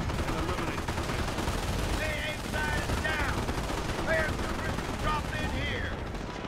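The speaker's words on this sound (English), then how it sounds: "everyone, shoot the anti-air gun" An anti-air gun fires in Company of Heroes, sustained rapid automatic fire and battlefield din rolling steadily under brief shouted voices.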